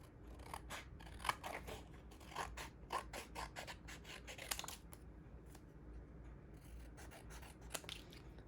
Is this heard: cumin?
no